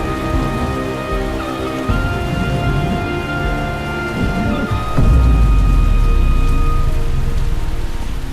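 Heavy rain pours down during a thunderstorm at an outdoor building site, a dense steady hiss of drops on surfaces with a deep rumble of thunder swelling partway through, loud and continuous with no voices.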